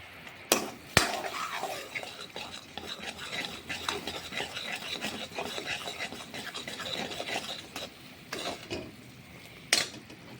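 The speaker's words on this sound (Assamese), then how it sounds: "এইখিনি এনেকৈ লৰাই দিলোঁ" Jujubes and a little salt are stirred in a pan with repeated scraping and rubbing strokes, broken by several sharp utensil knocks against the metal. The sounds are close and fairly quiet.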